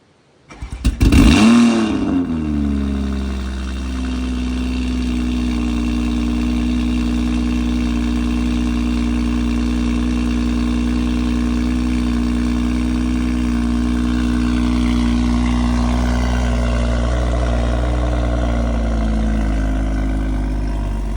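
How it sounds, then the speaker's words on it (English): A BMW M340i fitted with a Dinan valved exhaust fires up with a loud, sharp start-up bark, then settles into a deep, steady, rumbling idle that swells slightly later on, heard up close with no talking. "the Dinan Valved exhaust. These things are crazy loud. I'll give you guys a start up."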